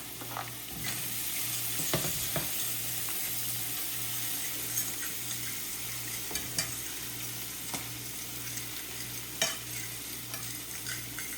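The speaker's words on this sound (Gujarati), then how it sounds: "જો આપણું બટર નહીં થઈ ગયું એટલે હવે નાખી દઈશું ઓનિયન એમાં." Onions frying in melted butter in a pan, a steady sizzle with occasional stirring scrapes and clinks running throughout, fairly close and continuous.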